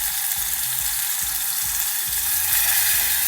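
Tomato paste frying in a pan while making a filling for stuffed onions gives a steady, loud sizzle that holds without pause, with faint stirring underneath.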